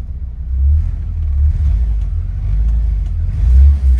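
A Honda Civic engine idles on a warm day after a cold start without the choke, giving a low, uneven rumble that swells and dips slightly over a few seconds, close to the car, with no voices.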